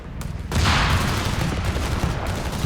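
A Nebelwerfer rocket barrage in Company of Heroes 3 erupts as a dense, loud rolling fusillade of launches and blasts, continuous and booming with no talk over it.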